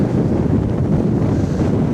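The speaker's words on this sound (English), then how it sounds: "I think the wind's gusting both ways and it's making the river flat" Steady, roaring wind buffets the microphone without pause on a river, a dense low rumble with faint hints of open water beneath it.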